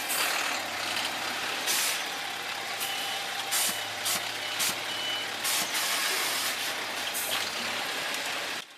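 A Volvo FH16 logging truck drives and turns at low speed, its engine a steady low rumble with repeated reversing beeps and a hiss of air brakes sounding nearby throughout.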